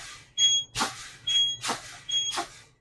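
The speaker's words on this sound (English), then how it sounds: "I got an alarm before 55 psi." During a truck's air brake check, the low air pressure warning buzzer sounds in three short bursts, each cut across by the sharp hiss of brake air releasing as the brakes are fanned down, heard close up with no talking.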